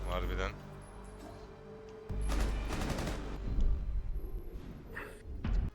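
Gunfire in a first-person shooter video game, bursts of rapid shots and sharp cracks scattered across the clip, mixed with game sounds and players talking over it.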